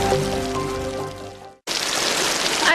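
Heavy rain pours down outdoors in a park, a steady broadband hiss that drops out abruptly for a moment and then returns just as dense and loud.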